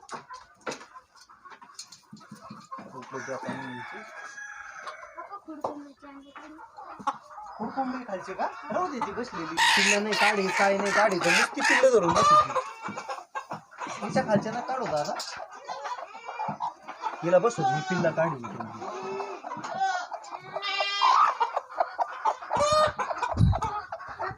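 Native country hens on a farm cluck and squawk close by in busy, overlapping bursts, with a person talking over and between the birds.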